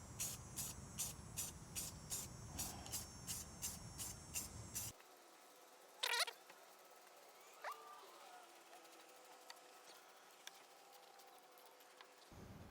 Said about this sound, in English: you could spray paint it whatever color you want